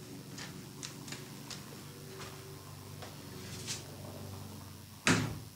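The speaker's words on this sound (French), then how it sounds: "je vais tout de suite aller fermer la fenêtre" A window being closed indoors, a run of faint clicks and taps from the frame and handle followed by a sharp, louder thud as it shuts near the end, with no talking.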